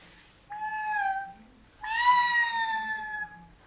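A human voice imitates an alley cat, giving two drawn-out meows, the second longer and louder, with short quiet gaps around them.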